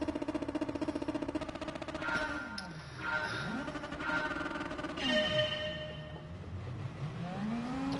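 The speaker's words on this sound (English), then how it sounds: "Oh my goodness, that car was quick off the line." Race cars in Gran Turismo Sport rev and launch off the start line, engine notes rising and falling in long sweeping pitch glides at moderate level, with no talking.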